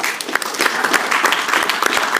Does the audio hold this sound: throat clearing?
no